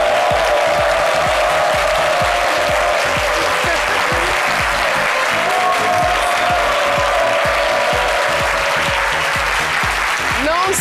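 A television studio audience applauds loudly to welcome a guest, with sustained clapping, some cheering and a rhythmic beat underneath, continuing for about eleven seconds.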